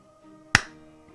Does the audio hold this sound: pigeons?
no